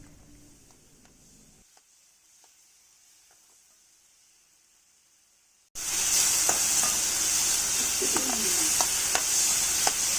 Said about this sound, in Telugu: టమాటోస్తో పాటుగా కొంచెం చింతపండు కూడా వేసి వేయించుకోవాలి